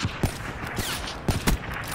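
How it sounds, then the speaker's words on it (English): Gunfire in Call of Duty: Black Ops III, with sharp, close shots in quick clusters, a pair near the start and a tighter burst about a second later, over a busy game background. "You shot me in like the face too."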